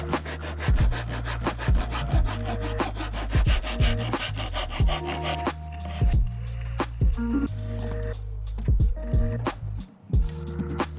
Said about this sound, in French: Fixez le bois à sa place, ce qui facilite le sciage.